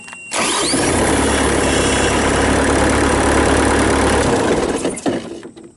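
A 1995 Bobcat 7753 rubber-tire skid steer loader with a Kubota V2203 diesel cranks and fires, then settles into a loud, steady, rumbling idle close by before cutting off near the end.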